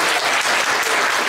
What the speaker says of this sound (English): with the warm applause for his speech